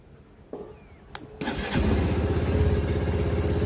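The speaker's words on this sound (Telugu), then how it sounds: "అదన్నా బండి స్టార్ట్ అయింది చూసారా" A Honda motorcycle in neutral starts after a couple of short clicks, then its engine catches and settles into a steady, fairly loud idle rumble, with no talking.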